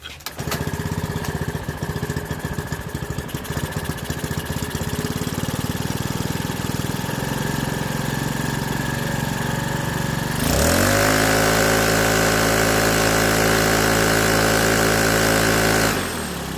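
A repaired Makita backpack leaf blower engine running, a rough idle that revs up sharply into a loud, steady high-speed whine and then drops back, close and alone.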